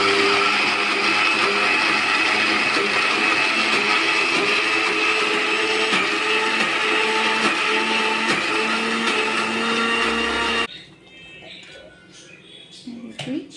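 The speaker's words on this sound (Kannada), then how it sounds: "ಕಡಲೆಕಾಳು ಸ್ವಲ್ಪ ಸ್ವಲ್ಪನೇ ಹಾಕ್ಕೊಂಡು ರುಬ್ಕೊಳ್ಳಿ" A mixer grinder churns soaked chana dal for masala vada with a loud, steady whirring hum, then stops abruptly near the end, leaving quieter handling noises.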